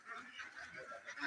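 Ducks quack and honk faintly in a short, distant burst of overlapping calls outdoors.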